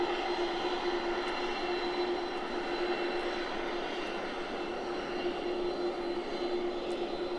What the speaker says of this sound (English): You see the plane turning around.